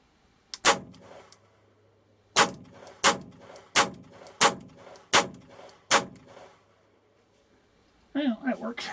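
Nagant revolver fired double action with grease in the cylinder, an isolated first shot followed by a rapid string of six sharp, loud reports at even spacing, echoing briefly before a short burst of other noise at the end.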